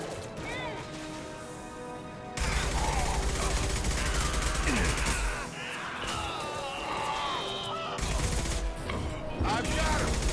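Heavy gunfire in the Mass Effect 2 video game rattles in dense, continuous bursts with crashing impacts, loud and chaotic, while voices shout over the combat.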